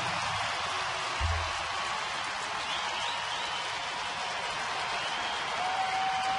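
A baseball crowd at Boston at Detroit cheering a pinch hitter, a steady broad roar of distant applause and crowd noise that holds evenly throughout without any clear voices.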